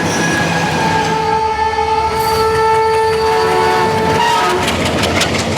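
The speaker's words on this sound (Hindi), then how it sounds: "पटरी पर गुजरती हर रेलगाड़ी" A train rolls past on railway tracks, a loud steady rumble and rattle with long sustained horn tones sounding through it, close by and with no talking.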